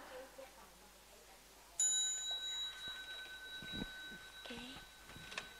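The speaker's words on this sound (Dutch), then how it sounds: "by the next small bell, you stand up" A small meditation bell gives a single clear ring that hangs and fades slowly in a quiet hall, with soft shuffling and faint movement around it.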